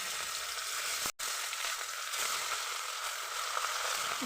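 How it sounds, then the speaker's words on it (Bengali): Rohu fish pieces frying in hot oil, a dense, even hiss that cuts out briefly near the start and then carries on steadily. "এবারে তেল গরম হয়ে গেছে, একে একে মাছটাকে তেলের মধ্যে ছেড়ে দেবো।"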